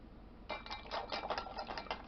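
A spoon clinks and scrapes against a pot as heated water for chicken base is stirred, in a quick series of small knocks after a brief quiet start.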